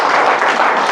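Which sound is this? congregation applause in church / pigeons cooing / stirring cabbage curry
congregation applause in church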